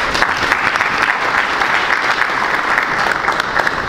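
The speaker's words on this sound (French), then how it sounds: "Et je vous demande de les applaudir." A full room applauds during a central bank vice-governor's formal speech, with dense, even clapping sustained at a strong level throughout.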